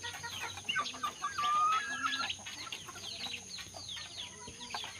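An Aseel rooster, a one-time fight winner, clucking close by in a short burst of throaty calls that then trails off into quieter background noise, with no talking.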